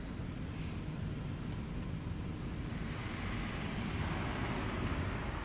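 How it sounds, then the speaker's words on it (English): A Washtec EasyWash 10 car wash machine sprays foam onto a car, giving a steady broadband hiss and low rumble that stays even and close throughout, with no voices. "Now it's coming back with foam."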